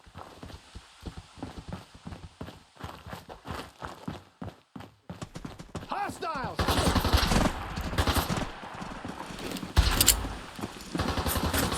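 Gunfire erupts in Fallout 4, first sparse sharp shots, then dense rapid bursts and sustained automatic fire rising in loudness, with a voice talking over the early part.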